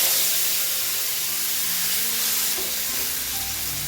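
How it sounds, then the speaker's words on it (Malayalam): Ground masala paste fries in a hot pan with a loud, continuous hiss and sizzle that holds steady throughout, close and alone. "ഇതിലേക്ക് നമ്മൾ അരച്ച് വെച്ച മസാല ചേർക്കുക"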